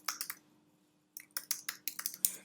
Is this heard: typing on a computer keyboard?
yes